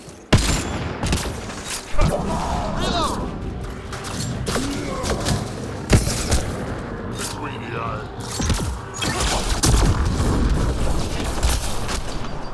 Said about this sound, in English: Because they're being annoying and shooting the hell out of me, but I can barely see them.